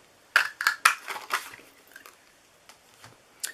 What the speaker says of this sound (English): we're going to punch this one out with the 1-inch circle punch